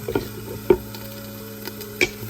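Chopped tomatoes stirred into a sizzling pan for tomato rice: a steady low fry hiss broken by a few soft, scraping stirs and knocks, close and fairly quiet.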